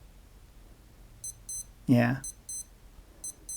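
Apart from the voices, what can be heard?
Casio W-800H digital wristwatch alarm beeping in test mode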